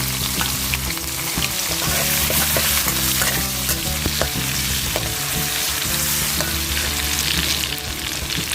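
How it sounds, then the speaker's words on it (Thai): Torn kaffir lime leaves, fingerroot, lemongrass and chili fry together in hot oil, sizzling loudly and constantly up close while a utensil stirs and scrapes the pan over and over. "ทอดทุกอย่างนะคะ เราทำแบบง่ายๆนะคะ ทอดรวมกันเลยนะคะ"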